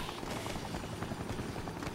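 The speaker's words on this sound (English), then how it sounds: "Okay, yeah, there's a helicopter." Helicopter in the Dead Rising video game, a steady loud rotor thump and engine roar filling the whole stretch without a break.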